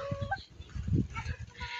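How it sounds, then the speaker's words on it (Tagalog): Chickens cluck in short bursts close by at a hillside hut in the late afternoon, with a low rumble of wind beneath and a few higher calls mixed in. "marami pa po silang mga manok dito mga kababayan"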